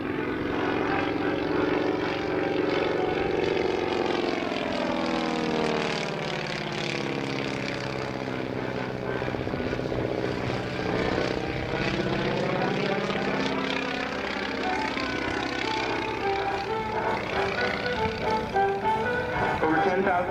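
A Stearman biplane flies at the 2024 National Warplane Museum Airshow, its radial propeller engine droning loud and steady, the pitch bending as it sweeps past over the full stretch.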